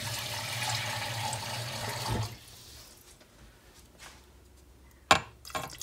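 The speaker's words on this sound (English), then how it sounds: "I'm going to add a little bit more water just to make sure that we're okay." Water pours steadily into an Instant Pot for about two seconds, then stops, leaving a quiet room with a few faint clinks and one sharp knock near the end.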